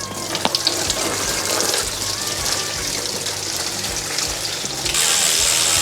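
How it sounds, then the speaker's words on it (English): Coolant drains from a Jeep TJ radiator in a steady gushing, splashing stream, close and continuous, slightly louder toward the end. "we got to pull the radiator, so we're just gonna drain it"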